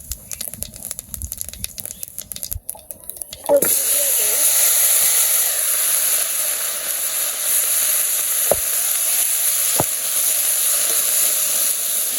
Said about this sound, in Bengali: কড়াইতে তেল দিয়ে দিই, তরকারি রান্না করবো